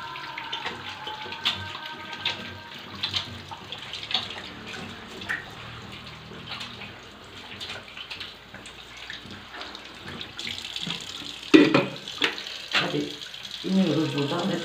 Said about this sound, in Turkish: Hemen elimi yıkayayım.